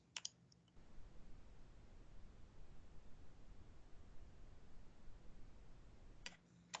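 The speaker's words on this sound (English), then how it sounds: "I'm going to be clicking on the done button" Two sharp computer mouse clicks on a button, one near the start and one near the end, with quiet background hiss filling the gap.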